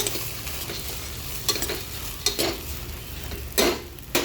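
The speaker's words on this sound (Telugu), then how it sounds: "వేసుకుని శుభ్రంగా కలుపుకోవాలి" Soaked moong dal is mixed into other ingredients in a pan, with close stirring scrapes over a continuous faint sizzle and a few louder spoon knocks against the vessel.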